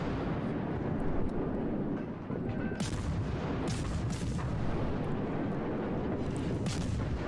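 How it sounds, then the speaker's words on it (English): Cruiser guns ripple firing in World of Warships, a dense run of booming artillery shots rolling in succession over a constant low rumble, loud and sustained with no talk. "I can also hold the mouse button, and then it'll ripple fire, so it'll fire them all in succession."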